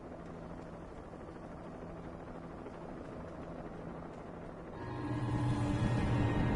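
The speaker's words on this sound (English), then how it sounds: "there's a chopper" Helicopter in the video game Alan Wake Remastered, a steady rotor-and-engine rumble that swells louder near the end as it passes overhead.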